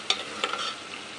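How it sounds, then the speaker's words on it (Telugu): Onion pieces frying in a pan with a little salt, giving a soft steady sizzle with a few louder stirring scrapes near the start. "త్వరగా ఫ్రై అవుతుంది. చూడండి, ఫ్రై అవుతుంది."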